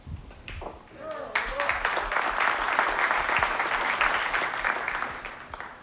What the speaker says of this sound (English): Occasionally you may hear other applause.